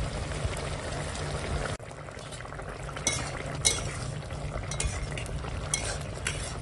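Fried rohu fish slides into a simmering vegetable curry with kulekhara greens, and a spoon stirs it through the bubbling, sizzling gravy in a steady, close-up wash of cooking noise without speech.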